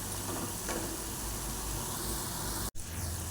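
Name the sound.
cauliflower pakodi deep-frying in oil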